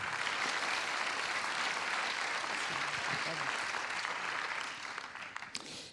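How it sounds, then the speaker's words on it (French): Audience applause at a cinema event in Lausanne, a steady dense clapping that holds evenly across most of the stretch, then thins and fades near the end. "On peut applaudir. On peut l'applaudir."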